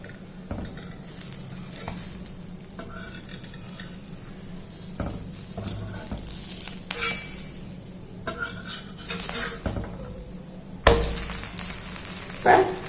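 An oats roti cooks on a hot iron dosa griddle after being flipped, giving a soft, steady sizzle with occasional light clicks and taps. It is fairly quiet and there is no talking.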